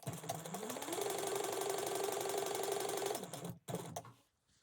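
A sewing machine runs steadily through a seam, a dense mechanical whir with rapid needle clatter that holds for about three seconds, then slows, stops briefly and gives a short final burst.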